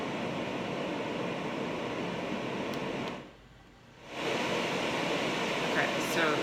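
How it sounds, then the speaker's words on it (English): A Lectrofan Micro sound machine plays its second white noise setting, a steady broadband hiss that dips briefly in the middle before returning at the same level. "this is the second white noise sound"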